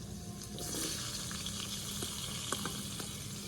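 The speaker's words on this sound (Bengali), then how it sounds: "তেলের মধ্যে দিয়ে দিব আলুটা কিছুক্ষণ ভেজে নেওয়ার পর" Potatoes fry in hot oil in a home kitchen pan, giving a steady, close sizzle with soft crackling pops and a few brief clinks throughout, with no talking.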